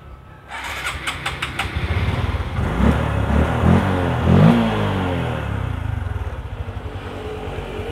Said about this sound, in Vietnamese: Rồi chúng ta nổ máy khoảng 5 phút nha các bạn nha.